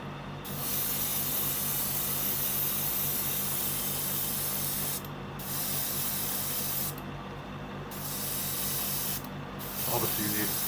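An airbrush sprays light brown paint onto a 1/6 scale figure in several close, steady hissing bursts separated by short pauses, with faint voice at the very end.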